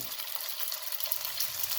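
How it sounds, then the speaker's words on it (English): Chicken browns in a hot frying pan with a loud, dense, crackling sizzle that holds steady throughout, close up and without talk. "Once you add the protein in, you let them brown"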